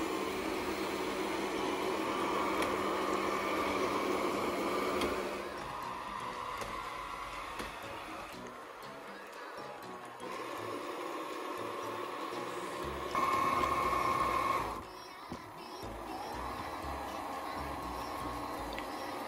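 An Ecovacs X1 Omni robot vacuum runs with a steady, moderate whirring hum that shifts in level partway through, briefly louder near the end, with no talking.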